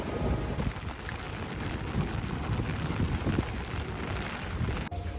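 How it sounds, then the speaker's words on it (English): Rain comes down heavily outdoors in Ketchikan, Alaska, forming a dense, continuous hiss with low rumbling gusts of wind buffeting the microphone. "It's starting to rain a lot more than it was earlier"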